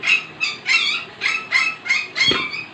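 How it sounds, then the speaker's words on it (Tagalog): A dog yips and whines in a rapid series of about seven high, wavering cries, close and loud, with no talking. "Yung aso ang ingay."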